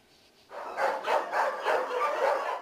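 Several dogs bark in a volunteer-run dog shelter in Ivano-Frankivsk, a continuous overlapping chorus of fairly loud yaps and barks starting after a brief quiet moment, with no talking.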